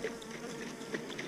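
Honey bees from a hive being checked for varroa mites hum in a dense, steady buzz, close and continuous, with no voices.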